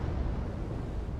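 An explosion in an anime episode rumbles as a dense, steady low roar, loud and continuous with no distinct impact, alone without talk.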